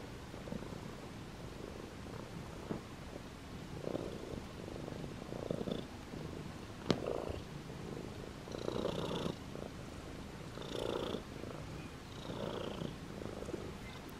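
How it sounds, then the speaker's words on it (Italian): A cat purring loudly and close by: a steady, rumbling purr in rhythmic pulses that carries through the whole stretch with no one talking. "Le fusa di gatta Stellina come al solito sono fortissime"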